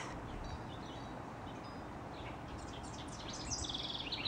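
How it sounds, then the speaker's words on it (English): Birds chirp and tweet faintly in the distance over a quiet side street in Hancock, New York, in June, with a brighter burst of calls near the end. "I hope you can hear the birds."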